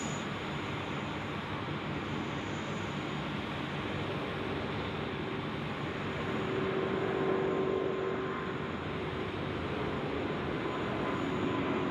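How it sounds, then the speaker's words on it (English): Airbus A350 jet taking off at night at Sydney Airport, a steady broad engine roar holding for the whole stretch, swelling slightly in the middle with a faint tonal whine, fairly distant and unbroken by voices. "Early rotation for the A350"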